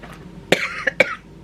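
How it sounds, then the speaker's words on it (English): A single person coughs a few times in quick succession, close and moderately loud, with a brief throaty rasp. "I will try to edit out all the coughing"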